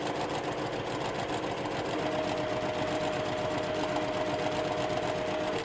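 A sewing machine runs steadily, stitching triangle pieces of a quilt block with a quarter-inch seam, its continuous motor whir close and even from start to finish with no talking.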